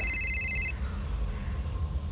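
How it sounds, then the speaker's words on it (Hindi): A telephone in a crime drama office gives a short electronic ring tone that stops after under a second, leaving a quiet room hum. "सर, प्रियंका का फोन"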